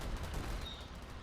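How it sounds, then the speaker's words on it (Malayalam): Gunfire in a strategy video game, a quick, faint burst of crackling shots that runs through a very short moment with no voices. "അങ്ങോട്ട് വെടി വെക്കൂ."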